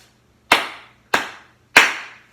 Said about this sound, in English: And now we're going to clap 3 times